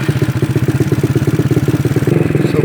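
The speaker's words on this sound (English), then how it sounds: "So now let's start the bike." A GY6 scooter engine fitted with a PWK carburetor runs in a steady, fast, close-up putter of regular firing pulses. It stays loud and even throughout, and no one talks over it.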